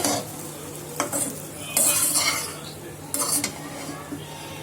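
Noodles stirred in a hot pan, several scraping, clattering stir strokes in bursts over a soft sizzle, close and distinct.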